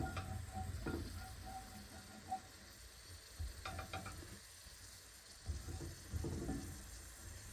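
Okra frying in oil in a HexClad skillet, a steady soft sizzle with occasional brief pops and stirring sounds, faint and continuous with no voices.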